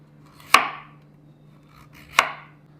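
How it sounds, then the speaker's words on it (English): Vegetables being sliced with a knife for escovitch sauce, two crisp, separate cuts striking a board about one and a half seconds apart, with a low steady hum underneath. "Then I'm going to make some slices like this."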